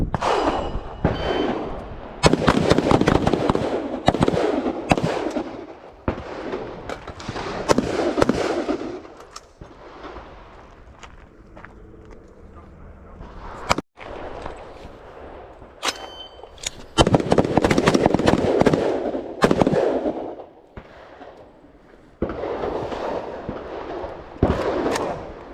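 Rifle shots at an outdoor shooting range, with bursts of sharp reports and echoing booms repeating over many seconds, loud and close, separated by quieter gaps.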